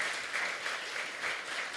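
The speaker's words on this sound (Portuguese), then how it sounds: "Vamos aplaudir a Deus pela sua palavra." Church congregation at a family worship service clapping together, a steady, moderately distant round of applause that swells slightly in waves.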